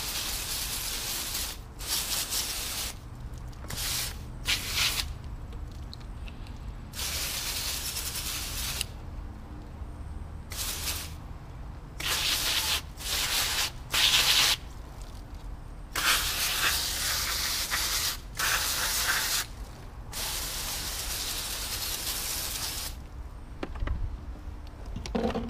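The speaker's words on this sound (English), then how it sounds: "And then just spray all the cartridges." Water spray rinsing the filter cartridges of a Maytronics Dolphin S300i robotic pool cleaner, heard as loud hissing bursts that start and stop repeatedly, broken by short quiet gaps and faint handling clicks.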